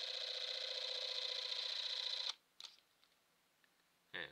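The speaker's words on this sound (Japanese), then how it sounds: "シャッターを押すことで撮影ができます" A Yashica 8 spring-wound 8mm film camera, modified with digital internals, runs its shutter mechanism in a steady whirring buzz for about two seconds, then stops, followed by faint clicks and a brief second whir.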